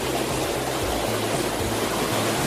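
A stream flows beside a campsite and mineral hot spring, giving a loud, steady rushing wash of water close by, constant and unbroken, with no voices.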